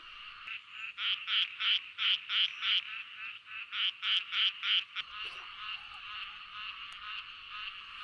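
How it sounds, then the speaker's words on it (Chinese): Many frogs croak at a mountain reservoir, with a fast run of loud, rhythmic pulsed calls rising over a dense, steady chorus that carries on throughout. "好多青蛙在叫啊！"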